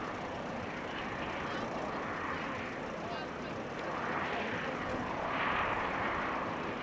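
Airliner flying a downwind leg toward runway 06 at Amsterdam Schiphol Airport, a steady distant engine roar that swells slightly near the end, with faint talk underneath.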